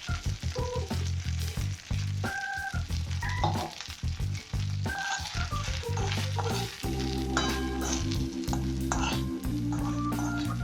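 Mini idlis sizzle in a hot tempering with asafoetida as a steady, close frying hiss, accompanied throughout by prominent tonal melodic notes.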